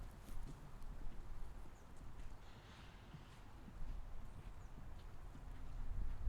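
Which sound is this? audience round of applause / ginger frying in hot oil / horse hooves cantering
horse hooves cantering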